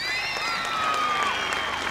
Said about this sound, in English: Great cheer too for the world record holder.